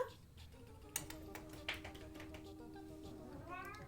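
A pet cat named Sylveon gives a faint, short meow late on, heard quietly indoors among small ticks and taps near a desk.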